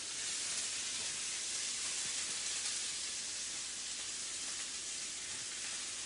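Chopped onion frying in a pan for Parsi papeta par eedu, a steady, even sizzle and hiss that holds at moderate volume throughout with no talking.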